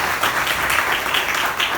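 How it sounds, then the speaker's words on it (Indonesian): A church congregation applauds steadily during a sermon, a dense wash of many hands clapping at once with no pause, fairly loud and close. "Yang percaya berikan tepuk tangan bagi Allah kita."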